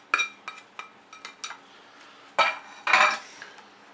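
Utensils clink and scrape against a bowl while fresh homemade salsa with garlic is mixed, giving several short knocks followed by two louder, longer scraping bursts, close and clear with no talking.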